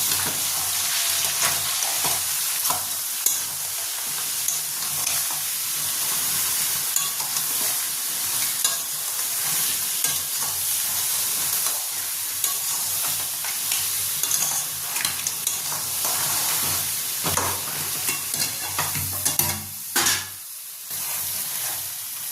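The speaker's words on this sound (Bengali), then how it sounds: "এবার এটাকে একটু ভালো করে মিশিয়ে নেব।" Crab curry masala being stirred and mixed in a hot pan with cardamom, a steady close sizzle and frying hiss with scraping spoon strokes throughout, no talking.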